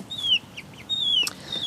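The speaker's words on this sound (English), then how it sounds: "flying chickens." Backyard chickens out foraging: quick bursts of wing flapping mixed with soft clucks and a few high chirpy calls, fairly close and quiet, in short scattered bouts.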